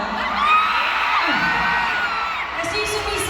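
Live audience at an evening showbiz event whoops, shouts and cheers in a continuous loud roar, with scattered individual yells rising above the crowd.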